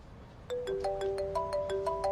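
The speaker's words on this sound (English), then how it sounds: "Your phone's ringing." A phone ringtone plays a short repeating electronic melody of bright tones, steady and fairly quiet, with no voices over it.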